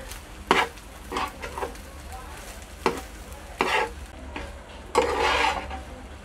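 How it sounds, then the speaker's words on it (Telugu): Cooked rice with ajwain (vammu) leaves, salt and half a spoon of chilli powder is stirred in a hot pan. A spoon scrapes and tosses in distinct bursts over a soft sizzle, heard up close. "ఈ రైస్లో ఇప్పుడు రుచికి సరిపడగా సాల్ట్, హాఫ్ స్పూన్ కారం ఇవి మిక్స్ చేసుకుందాం."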